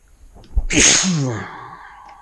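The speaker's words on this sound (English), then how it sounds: "You gotta sneeze." A single loud, close sneeze: a short sharp intake of breath followed by an explosive burst that trails off.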